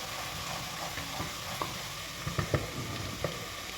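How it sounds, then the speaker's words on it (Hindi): Steady oil sizzle with scattered scraping clicks as garlic is stirred in a pan, turning light brown; close and moderately quiet, no voices. "अब हम इसको हिलाएंगे। ये लहसुन जो है ना लाइट ब्राउन सा होना स्टार्ट हो गया है।"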